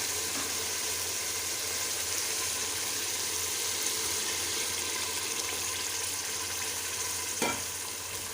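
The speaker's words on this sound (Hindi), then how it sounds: "इसमें हम तकरीबन 1 गिलास सिर्फ पानी का डालेंगे।" Water is poured into a hot pressure cooker holding beef and potatoes with a steady sizzling hiss, followed by a short metallic clank near the end.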